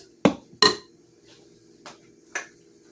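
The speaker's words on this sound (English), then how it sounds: "now I'm going to add my walnuts" Toasted walnuts tipped into a Texas sheet cake in a 13x9 pan: two sharp, close clatters, then a couple of softer knocks and clinks, with no talking.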